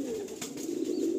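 Madrasi pigeons coo softly in a loft, a low, throaty rumbling coo that runs continuously at close range with no talking.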